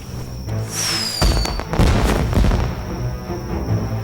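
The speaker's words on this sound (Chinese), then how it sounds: "发射信号烟花，告诉其他人位置" A signal firework launches with a rising whistle streaking upward, then a string of sharp bangs and booming cracks follow, loud and close, with rumbling noise between them.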